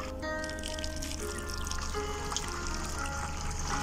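Rainwater pours and trickles into containers of legume seeds, a continuous splashing and dribbling flow at close range with no talking.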